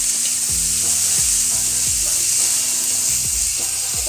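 Asafoetida and turmeric fry in a hot pan for vegetarian chowmein, giving a steady, loud sizzle with the faint scrape of stirring running underneath, close up and with no talking.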